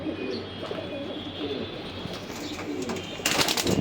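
Original racing pigeons, a loft of paired males and females, coo softly and repeatedly nearby, with rustling and a burst of broadband noise near the end.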